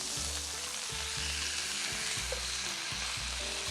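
Steaks sizzle steadily in a hot pan, a continuous bright frying hiss filling the scene, with soft thumps and shifts as the meat is turned over, fairly close and loud, no talking.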